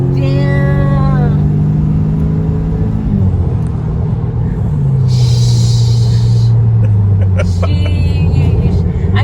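An Audi S3 8V in sport mode accelerates hard, its engine droning loud and close from inside the cabin, the pitch climbing through the gears with shift drops, while people in the car talk briefly.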